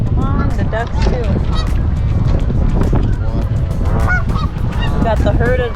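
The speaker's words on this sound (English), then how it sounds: "Come on, the ducks too." A crowd of ducks gathers on the water at Niagara Falls, calling in constant overlapping honks and squawks, near and loud, over a low rumble of water.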